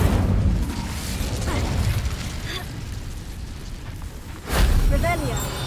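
An Incendio fire spell from Hogwarts Legacy goes off as a deep rumbling burst that swells, fades, then flares up again with a second whooshing blast.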